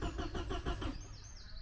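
An abandoned Porsche 924 with an electrical fault cranks over, its starter churning in a quick rhythmic run of pulses for under a second before cutting out and leaving a faint whine.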